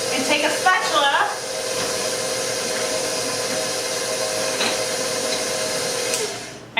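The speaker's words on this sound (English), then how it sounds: "I'm going to turn the mixer up just a smidge" Electric stand mixer whirring steadily as it mixes a floury dough, a continuous motor hum turned up a little, with someone talking over it early on before it winds down.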